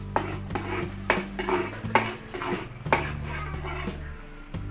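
Garlic goes into a big pan for cooking a large batch of Filipino dishes and is stirred, a repeated rhythm of metal utensil scrapes and clanks against the pan over a soft sizzle.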